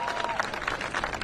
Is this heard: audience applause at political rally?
yes